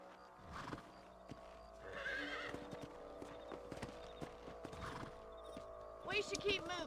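Horses in Red Dead Redemption 2 clip-clop along at a trot and let out whinnying neighs, hoofbeats steady and near, with game characters talking over them.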